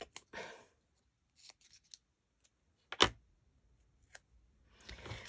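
Small scissors snip paper and trim for a shabby pink tearoom journal, giving a handful of sharp, scattered clicks and brief cutting crunches at close range in a quiet room.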